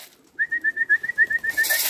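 Young racing pigeons on a rooftop give a quick run of about a dozen short, evenly spaced calls, close and fairly loud against a quiet background.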